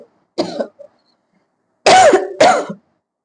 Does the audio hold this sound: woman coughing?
yes